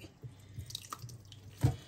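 Water dripping from freshly washed minced meat set to drain in a cloth over a tub below, a few soft separate drips against a quiet background, with one louder splash near the end.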